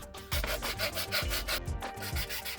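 Rhythmic rasping strokes of sanding a hand-carved wooden soap holder, close up, each pass a gritty scrape repeating about twice a second, no talk.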